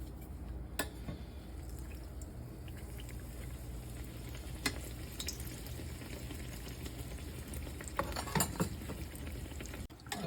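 Bread fries in canola oil with a low, steady bubbling sizzle, broken by a few clicks and clatters of a utensil and no talking.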